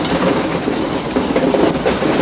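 Ooty's mountain railway train runs through a tunnel, a loud, enveloping rumble and clatter of wheels on rails that echoes steadily throughout.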